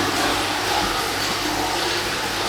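Steady rushing water pouring into a garden pond from an 18,000 litre per hour pump, a continuous close, loud flow with no talking.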